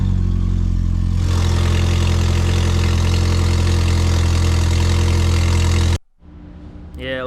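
Idle of a VW MK4 GTI 1.8T turbo engine with a failed downpipe flange exhaust leak: a loud, steady rumble that cuts off abruptly near the end, followed by a short burst of different noise.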